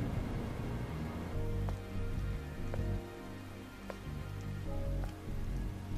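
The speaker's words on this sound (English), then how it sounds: "This must be Earth's rain." Rain falls steadily in the ruined city of Eidos 7 in Stellar Blade, a soft continuous patter on surfaces with faint musical tones underneath, fairly quiet and without voices.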